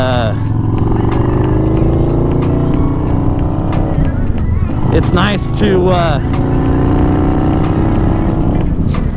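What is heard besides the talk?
motorcycle riding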